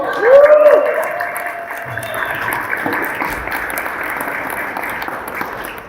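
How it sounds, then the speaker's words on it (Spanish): Audience applause at a multilevel marketing business seminar, a moderate spread of clapping that begins with a brief louder burst and then continues at an even level. "Can you give them a round of applause?"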